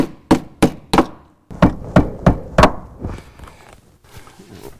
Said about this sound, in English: So we'll give these screws a little tap